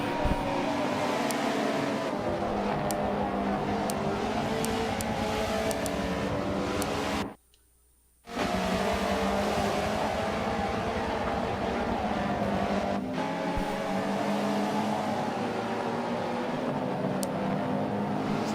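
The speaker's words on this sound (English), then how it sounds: "Herd of Hondas making their way through the field." Honda race cars in the Michelin Pilot Challenge at Daytona drone steadily past at speed, a sustained loud engine roar with layered exhaust tones that cuts out briefly before resuming.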